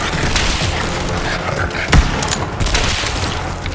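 A pirate-style pistol firing in Borderlands 3 co-op play, a dense loud burst of shots and booms over a busy combat din, with one heavier thump near the middle.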